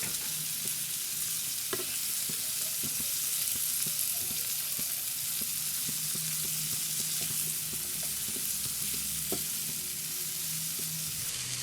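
Tomatoes and spices frying in a pan, giving a steady, even hiss of sizzling oil with occasional faint ticks and stirring taps, close and moderately quiet.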